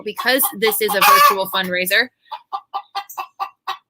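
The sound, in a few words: chickens clucking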